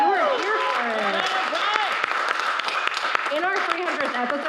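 Studio audience applauding at a 300th-episode taping, a steady wash of many hands clapping together while a voice speaks over it.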